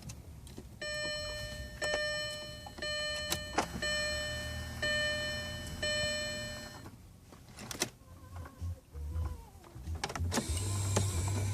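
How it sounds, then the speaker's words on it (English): The dashboard display monitor motor of a 2004 Audi A8 activates when the key goes into the ignition, giving a faint, steady electric whir with chiming tones, followed by clicks and small interior rattles. "you insert the key in the ignition to activate the monitor."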